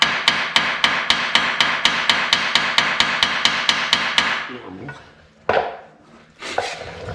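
A hammer strikes metal on the stuck brake of a Honda RT5000 tractor in a fast, even series of about sixteen loud, sharp blows, then stops, followed by a couple of scattered clanks and knocks.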